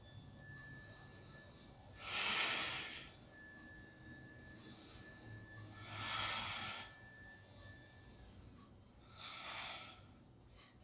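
Deep breaths during a yoga boat pose in an advanced vinyasa home practice, three slow, airy breaths spaced a few seconds apart, close and fairly quiet.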